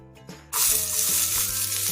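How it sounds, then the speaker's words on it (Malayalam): Ginger and green chilli dropped into hot oil burst into a loud, bright sizzle after a brief quiet moment, then keep frying steadily up close. "ഇഞ്ചിയും പച്ചമുളകും ചേർത്ത് കൊടുത്തിട്ടുണ്ട്. നന്നായിട്ട് നമുക്കൊന്ന് വഴറ്റിയെടുക്കണം."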